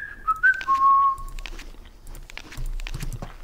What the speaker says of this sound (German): Hat er gerade gepfiffen?